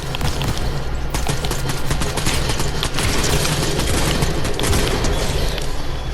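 Fortnite gunfire hammers nonstop in dense rapid bursts, loud and close. Overlapping shots and booms fill the whole stretch with no pause.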